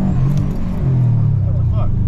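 A Subaru WRX with an aftermarket blow-off valve cruises on the highway, its steady low engine drone and road rumble filling the clip, loud and close throughout with a brief dip near the middle.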